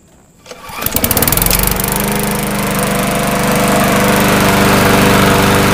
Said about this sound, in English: And you have an engine that runs.